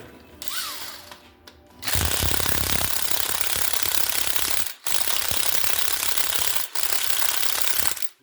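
A small Snap-on power tool hammers against a stubborn bolt on a GM 5.3 engine during timing chain removal, a loud continuous rattling burst with brief pauses, close up and without speech.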